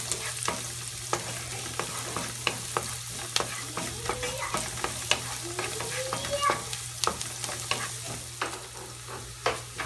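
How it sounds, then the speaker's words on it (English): Chopped onion sautéing in a hot pan, a steady close sizzle broken by frequent sharp scrapes and clicks as a utensil stirs it, with no talking. "Saute it for 2 minutes or until your onion turns golden brown."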